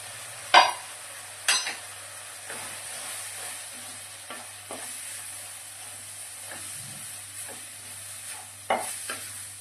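A spoon stirs tomato and masala frying in a pan for a fish curry, with a quiet steady sizzle under occasional scraping strokes, close and faint, with no talking.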